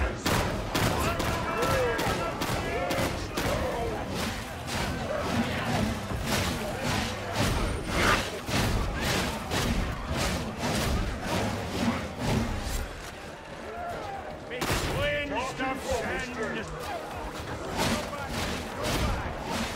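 Near-constant weapon fire and impacts in the game Darktide, including slug shells from a shotgun, pounding in rapid heavy bursts for the whole stretch while someone talks over the combat.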